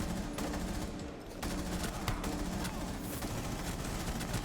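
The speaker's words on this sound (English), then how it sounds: "I'm gonna try and continue firing as I move through, right? So I'm gonna try and go from target to target while still firing." Rapid automatic gunfire from the video game Rainbow Six Siege, fired continuously while sweeping between targets in a training mode; dense, steady bursts fill the whole stretch with no talk.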